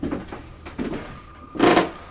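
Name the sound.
door closing in a house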